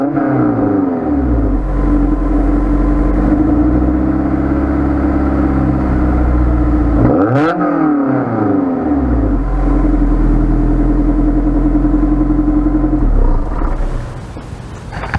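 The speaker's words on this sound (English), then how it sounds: "So I'll do the old Ricer rev for you guys." A Honda S2000 engine revs hard and close, holding a high buzzing note, dropping briefly in a quick blip around the middle, then climbing back before easing off at the end.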